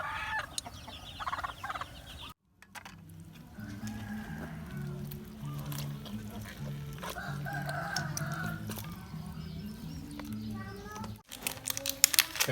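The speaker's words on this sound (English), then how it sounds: "we have lots of chicken like you see in here, lots of chicken" Chickens and roosters on a Cambodian farm cluck and call in a steady chorus, with crowing phrases rising above the flock and brief gaps in the sound.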